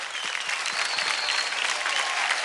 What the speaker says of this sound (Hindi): इनके लिए भी जोरदार तालियां हो जाए